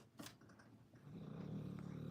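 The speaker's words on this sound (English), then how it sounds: "Excuse my dog." A dog in a quiet room gives a brief snort, then settles into a low, rumbling growl that holds steady for about a second, faint and close with no talking.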